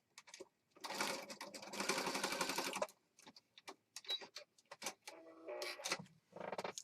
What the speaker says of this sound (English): we're going to stitch on this real fast